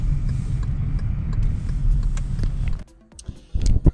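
A car drives along with a steady low engine rumble and road noise, loud and close, cutting out near the end before a few knocks and a renewed burst of sound.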